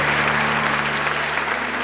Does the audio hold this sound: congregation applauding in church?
yes